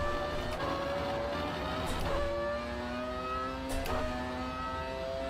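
An old car in the Automobilista 2 racing game with traction control cutting in, a steady engine whine with rising and falling tones and brief stuttering bursts, heard alone at moderate level.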